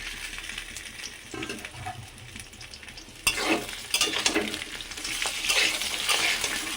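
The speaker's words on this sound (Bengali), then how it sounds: "আলুটা ভাজা হয়ে গেছে, এবার সবজিগুলো সব দিয়ে দেবো কড়াই" Potatoes and vegetables stir-fry in a kadai, with continuous sizzling and scraping stirs growing louder midway as the vegetables go in, no voices.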